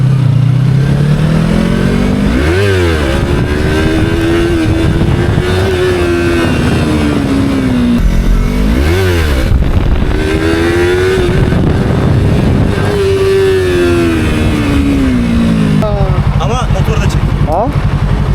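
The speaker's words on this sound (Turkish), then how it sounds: "Birazcık bir git gel yapayım motoru." Motorcycle engine revving repeatedly as the rider goes back and forth, rising and falling throttle sweeps loud and close, with someone talking over parts of it.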